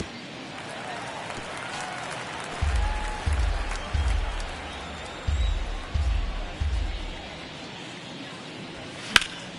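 A baseball crowd in MLB The Show 23, Mets versus Nationals in the ninth inning, keeps up a steady roar with a rhythmic series of loud thumping claps or stomps, as if chanting along.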